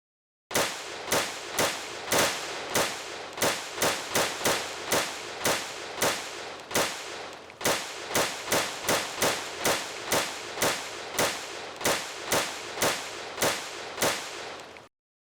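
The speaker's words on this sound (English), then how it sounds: "I improvised and just pasted gunshots over the video" A long steady series of sharp gunshot sound effects, evenly spaced about every half second, loud and close, with no voices.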